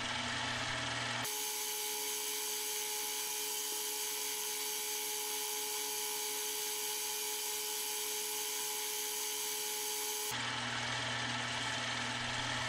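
Fine 800-grit sandpaper working a metal shamrock ring, a steady continuous abrasive hiss running for about nine seconds at moderate level, with no talk over it.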